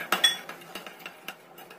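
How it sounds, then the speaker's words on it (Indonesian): A spoon stirs a seasoning mixture with added sugar in a bowl, with close, crisp clinks and light scraping taps in an uneven rhythm over a short stretch. "Kita aduk lagi sampai tercampur rata."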